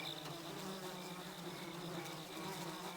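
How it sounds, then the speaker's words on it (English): Crickets chirp in a dense, continuous insect drone with a faint pulsing shimmer, steady and unbroken with nobody speaking. "I love listening to the dulcet tones of these crickets."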